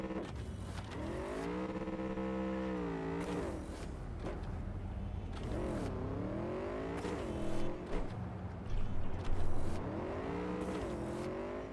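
A car in the video game Cyberpunk 2077 accelerates, its engine note sweeping upward again and again through repeated gear-like climbs, steady and loud with no talk.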